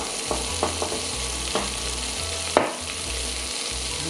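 Shallots and mushrooms fry in a pan, giving a steady close sizzle with a few sharp clinks and scrapes of stirring on top; no talking.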